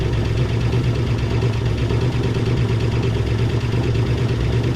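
A 1966 Ford Mustang V8, long abandoned and just revived, idles with a steady, loud, continuous rumble that holds even throughout, with a slight uneven knock in its beat.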